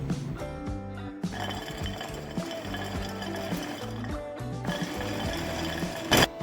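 Mixer grinder whirring steadily as it grinds mutton fat with green chilies and coriander for seekh kebab, a continuous motor drone with rattling, running throughout and close.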